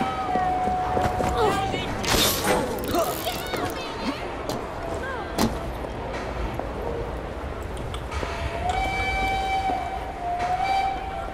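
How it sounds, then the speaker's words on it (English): Train station ambience in the video game Assassin's Creed Syndicate: rumbling rail cars, clanks and a long steady whistle tone, continuous and fairly loud, with a voice talking over it at times. "I have no idea how to get out of this train station."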